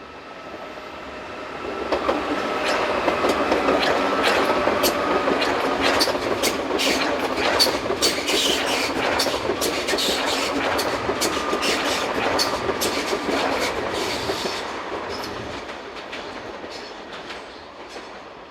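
An ETR 610 tilting train, set number 14 on the Basel to Milano Centrale service, rolls into a station, its wheels clicking in rhythmic bursts as the noise builds, holds and then fades when it slows.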